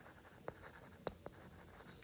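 Marker or chalk strokes on a board while a geometry proof about a circle's chord is written out: a few quiet, separate taps and short scrapes in a hushed room, with no voice.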